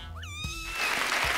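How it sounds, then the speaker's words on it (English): A single cat meows once, a rising then falling cry up close, followed by faint rustling. "Meow, meowing."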